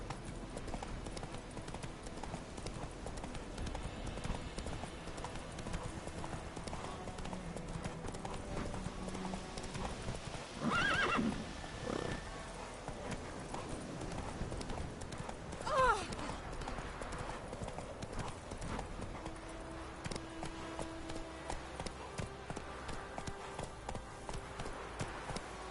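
Hooves of Roach, a horse in the video game The Witcher 3: Wild Hunt, clip-clopping at a gallop in a steady rhythm, mixed under game music and ambience, fairly faint.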